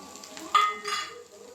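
Fried peanuts stirred into chow mein in a pan, two short scraping strokes over a faint sizzle, close and quiet.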